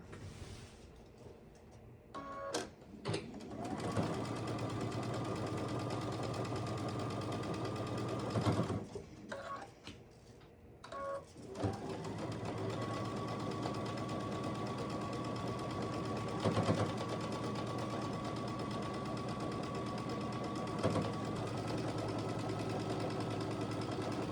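A sewing machine stitches a quilt block in long, steady runs of motor hum and needle clatter, with brief stops between passes.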